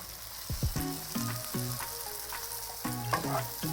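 Horse gram powder being stirred into sautéed onions in a pan for horse gram upma: a steady frying sizzle with scattered spoon scrapes, close and moderately loud, with no talking.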